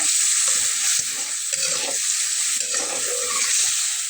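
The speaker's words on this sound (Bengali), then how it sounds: "তো এটাকে আমরা এভাবে কষিয়ে নেব।" Frying and stirring a spiced masala in a pan before bitter gourd is added, with a steady bright sizzle throughout and occasional scraping stir strokes, no voices.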